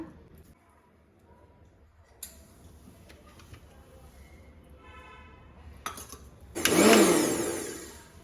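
A mixer grinder blends a homemade kunkuma mixture with liquid added bit by bit, with light clinks and handling before the motor roars up loud and close near the end, then winds down.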